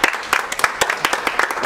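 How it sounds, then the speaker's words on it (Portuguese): Brief audience applause in a hypnosis session room, a burst of scattered hand claps from a small group, close and lively, lasting under two seconds with no talking. "Palmas pro Anderson."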